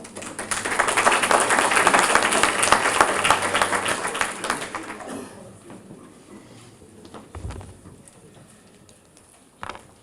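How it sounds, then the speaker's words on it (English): A debate audience breaks into applause, loud dense clapping for about five seconds that then thins into scattered claps and room noise, with faint movement and a thump near the end. "Let's give him a round of applause."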